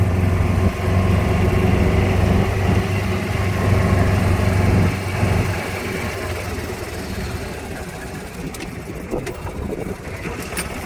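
A car drives slowly along a bumpy road in south Ambergris Caye, its engine droning steadily with rumbling and rattling from the rough surface; the sound eases slightly midway.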